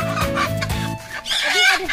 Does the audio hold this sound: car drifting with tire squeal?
no